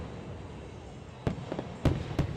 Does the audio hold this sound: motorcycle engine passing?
no